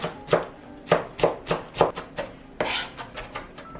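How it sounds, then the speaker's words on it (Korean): A knife chops a green chili pepper on a cutting board in a steady series of close, crisp strikes, with a brief scraping sound partway through. "청양고추는 있으면 한 개씩 준비하시고요. 송송 썰어주세요."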